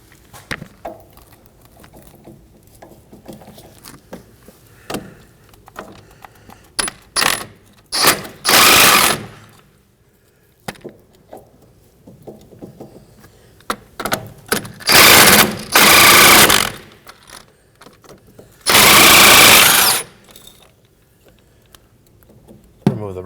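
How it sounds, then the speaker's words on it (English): A wrench loosens the 15 mm end link fastener on the front sway bar of a 2014–2023 Ford Transit Connect, with three loud, close bursts of ratcheting between lighter metallic clicks and handling noise. "Remove the wrench and your fastener."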